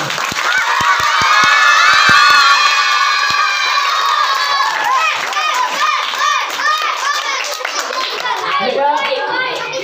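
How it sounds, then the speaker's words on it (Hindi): Schoolchildren in a school hall clap and cheer loudly for their teachers during a magic show, a few sharp claps at first, then a crowd of high excited voices shrieking and calling over scattered clapping. "आप अपने मैडम के लिए, अपने टीचरों के लिए जोर से तालियां"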